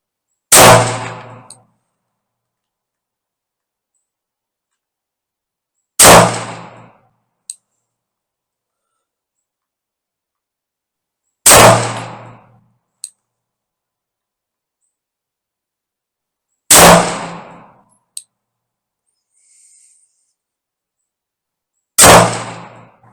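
A Girsan Witness 2311 Match 9mm pistol fires at steel targets, five sharp reports spaced about five seconds apart. Most shots are followed by a faint distant clang of steel.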